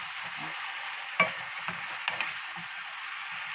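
Kimchi sizzling and stir-frying in a coated frying pan, with occasional scraping and clinks of a utensil stirring, steady crackle throughout.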